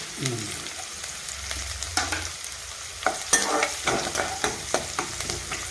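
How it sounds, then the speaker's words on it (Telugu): Onions, garlic and green chillies fry in a pan for drumstick-leaf rice, giving a continuous sizzle broken by a run of sharp, regular stirring scrapes and knocks toward the end, close by and with no talking. "ఉల్లిపాయలండి వెల్లుల్లిపాయలు పచ్చిమిరకాయలు వేసేస్తున్నాయండి"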